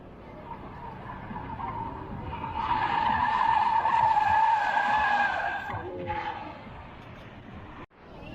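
Car tires skid and squeal during drifting runs at the Ford Thrill Zone at Electrify Expo Miami, a sustained screech that builds, peaks in the middle and fades, with engine and crowd noise underneath.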